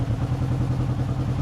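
Motorcycle engine running steadily close by, a constant low chugging rumble with light mechanical clatter, heard alone for a moment just after being started with a check-engine light on.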